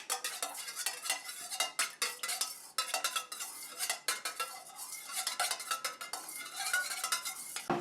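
Melted wax for homemade wax melts being stirred in a container, giving a steady run of close scraping and light clinking strokes that carry on throughout with no talk.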